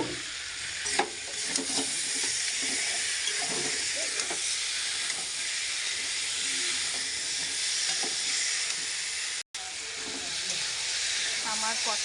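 Spices for a rohu fish curry simmering in a pan after water is added, a constant bubbling hiss and sizzle with occasional stirring scrapes, fairly close, alone with a brief dropout near the end.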